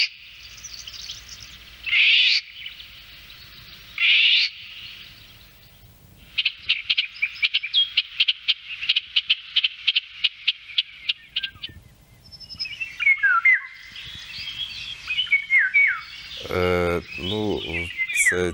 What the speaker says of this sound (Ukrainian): Це вивільга.